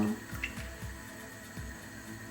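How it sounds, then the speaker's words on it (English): A hand swishes through water in a home kitchen bowl while making puff puff, giving soft rhythmic sloshes and drips over a faint background hum. "I'll put my hand inside the water."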